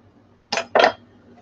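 Two quick scraping clinks of a utensil against a cooking pot while stirring garlic, one short and one slightly longer, close and fairly loud with quiet pauses around them.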